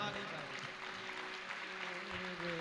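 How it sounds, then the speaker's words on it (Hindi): An audience at a Jain religious discourse claps in a steady, moderate patter, with a sustained tonal hum running underneath throughout the brief stretch. "इतने ताली बजा रहे हैं"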